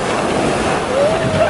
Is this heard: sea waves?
yes